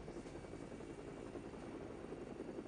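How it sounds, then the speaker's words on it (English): A police helicopter lands with a steady, continuous rotor and engine drone, heard at an even level throughout with no speech. "They land the chopper."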